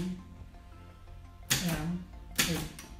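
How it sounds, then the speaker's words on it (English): Keys struck on a typewriter escape room prop, two sharp loud mechanical clacks spaced about a second apart against a quiet room hum. "The code word for this typewriter is DRAMA."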